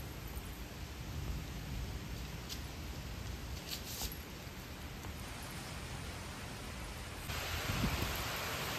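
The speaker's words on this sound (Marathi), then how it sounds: "आता भरपूर जोरात पाऊस पडत आहे इकडे" Heavy rain pours down in Karjat, a dense, even hiss of falling water that holds steady throughout and swells slightly near the end, with no voices.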